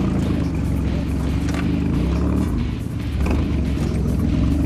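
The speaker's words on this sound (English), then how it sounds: "From the supercharged nitrous assisted V6." A supercharged, nitrous-assisted V6 car engine roars steadily during a burnout, loud and close with a continuous dense rumble and tire hiss throughout, no talk.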